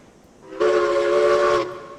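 Steam locomotive whistle in the RailRoads Online video game: one loud, sustained tonal blast lasting about a second, starting abruptly and cutting off cleanly over quiet background.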